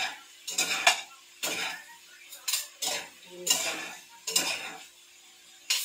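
Fried tofu being sautéed for ginisang tokwa, with a metal utensil scraping and clanking in a pan in about seven uneven bursts, close and fairly loud with faint sizzling, and no talk.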